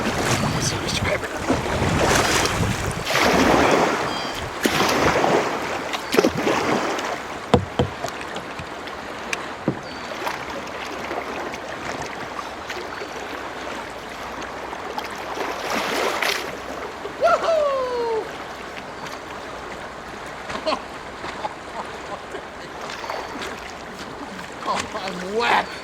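Kayak paddling on the Kalamazoo River between Albion and Marshall, Michigan: a steady wash of water splashes and wind noise close to the microphone, with voices talking over it.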